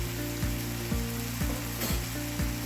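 Tomato added to a mushroom dish cooking in a pan, with a steady, loud sizzle of frying and a regular scraping stir about every half second.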